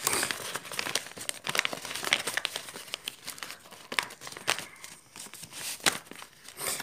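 A sheet of paper is creased and folded for an origami star dreadnought, making close, crisp crinkling and rustling with sharp crackles in quick irregular bursts, with no voices.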